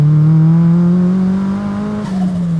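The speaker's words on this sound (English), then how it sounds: "loud turbo sounds" A turbocharged Mazda Miata on E85 with a big turbo, about 470 wheel horsepower and a fully built bottom end, pulls hard under acceleration. Its loud, steady engine drone rises in pitch close by, with turbo whoosh over it.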